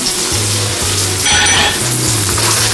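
Marinated pork hitting a hot pan: a loud, close, steady sizzle with the scrape and clink of stirring underneath.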